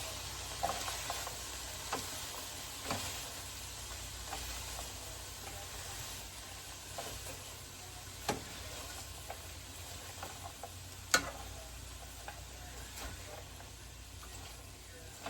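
Grated carrot is stirred into turkey sausage frying in a pan for a stir fry: a soft background sizzle broken by irregular scraping and clicking of the utensil, close and fairly quiet.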